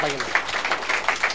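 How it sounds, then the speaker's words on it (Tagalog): A church congregation claps in a brief burst of applause while a voice speaks over it. "Palakpakan po natin ang pinakamalakas na palakpak natin"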